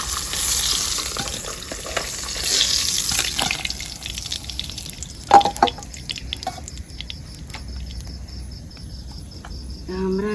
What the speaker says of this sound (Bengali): মাছগুলো ভাজা হয়ে গেছে, উঠে নেব।